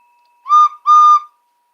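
Two short, shrill whistle blasts are played as a sound effect, the second held slightly longer, loud and clean against silence.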